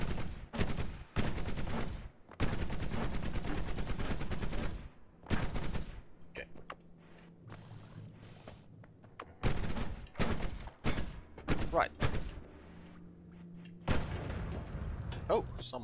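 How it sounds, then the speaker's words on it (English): Rapid bursts of gunfire from an enemy in the roguelike game Noita, dense crackling volleys in several clusters with quieter gaps and ambient hum between them, loud and close. "Someone's trying to shoot."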